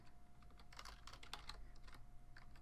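Typing on a computer keyboard by someone wearing a wrist brace, a quiet, steady patter of key clicks in uneven bursts, close by and alone over a low hum.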